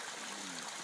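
Fresh mountain water flows from a collection pipe feeding a farm stay down the valley, a steady soft trickling stream heard close and fairly quiet, with no voices.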